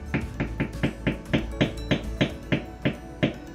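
Light mallet taps on a stamping tool pressed into leather for cosplay armour, about a dozen crisp, evenly spaced knocks in a steady rhythm, close and fairly quiet.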